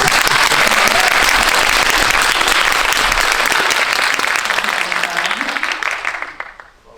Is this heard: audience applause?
yes